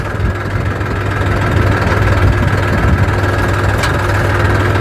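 A tractor engine idles nearby, a loud, steady low rumble that holds unchanged throughout with no talk over it.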